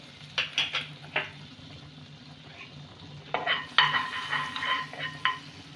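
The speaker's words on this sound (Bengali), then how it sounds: "বাটারটাকে গলিয়ে নেব।" Butter melts in a kadai (wok) for a butter garlic potato snack, giving a soft, close sizzle broken by sharp metallic clinks and scraping bursts of stirring.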